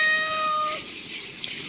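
A cat being bathed gives a drawn-out, plaintive wail that fades within the first second, leaving the hiss of running bath water alone afterward.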